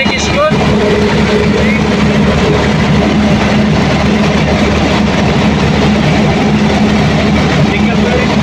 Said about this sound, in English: the engine sound is not good. It is something missing or misfiring